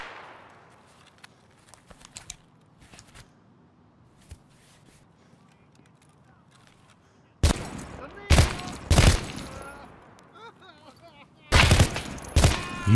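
Gunfire in a video game with a Vepr rifle, loud rapid bursts of shots in two volleys after a stretch of quiet footsteps and faint shuffling, close and sharp.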